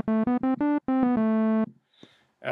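Synth lead mixing sawtooth and square waves through a low-pass filter, playing a short run of bright buzzy staccato notes followed by one longer held tone, then near silence.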